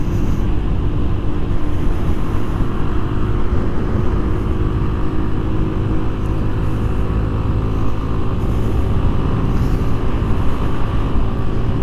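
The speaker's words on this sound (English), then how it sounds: "those RPMs are definitely cooking going on this uphill" A Genuine Buddy 170i scooter engine revving hard while climbing uphill in traffic: a loud, continuous, close-up drone that holds steady throughout, with no voices.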